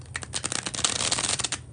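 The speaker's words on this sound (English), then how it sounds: "Second and last bridge shuffle." Playing cards riffled and bridged in a close, steady flutter of rapid crisp snaps lasting under two seconds, with no voice.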